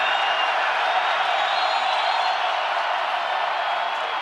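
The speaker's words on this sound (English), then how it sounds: "the crowd is really going to rev it up" Stadium crowd at a 2024 college football game between Cincinnati and Texas Tech, a steady, dense roar of cheering that holds at an even, loud level throughout.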